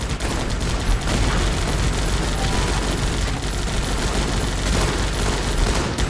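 Dense, continuous bombardment gunfire fills the Guns Up! battlefield, loud rapid bursts and explosions layered without pause for the whole stretch, with no voices over it.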